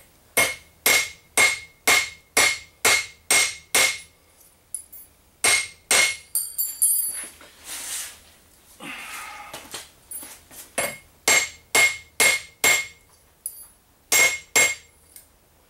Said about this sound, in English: we're just going to take a fairly wide-faced hammer and just give them a few blows